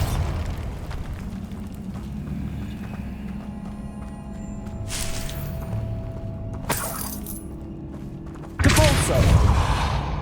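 A Bombarda spell explosion in Hogwarts Legacy, a loud burst with a sharp crack near the end after a low rumbling game soundscape, with a few smaller pops earlier.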